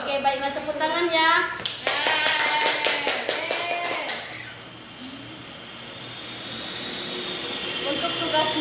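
A university civics classroom breaks into a short burst of hand clapping, sharp claps overlapping a teacher's voice before fading into room noise.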